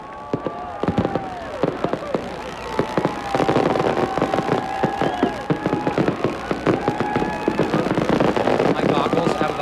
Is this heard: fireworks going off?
yes